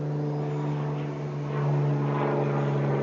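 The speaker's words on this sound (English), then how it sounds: "There's an airplane." A propeller airplane drones overhead, a steady humming tone with a smooth engine hum that swells slightly louder toward the end, heard alone without talk.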